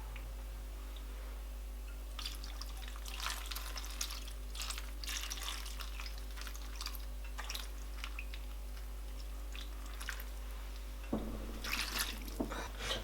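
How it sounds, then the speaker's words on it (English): Water is poured into a pot of Nigerian plantain porridge, with a steady low trickle and splashes that grow louder and sharper near the end. "So now I am going to add water."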